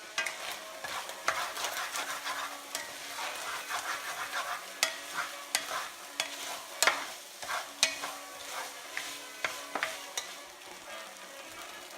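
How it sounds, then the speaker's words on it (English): Ground meat and onion browning together in a pan, a continuous sizzle broken by regular sharp scraping clicks of a utensil stirring, close and fairly loud with no voices. "we've been browning the meat and onion mixture around together a little bit"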